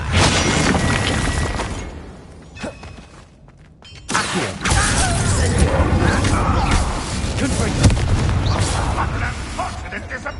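A Bombarda explosion spell goes off in Hogwarts Legacy on PS5, part of loud, dense combat with booming blasts and crashing debris. There is a brief lull, then the noise surges again. Voices are heard within the din.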